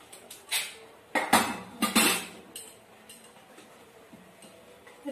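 A lid clanks onto a cooking pot, several sharp metallic clinks and knocks in a quick cluster near the start, then quieter faint ticks in a calm kitchen.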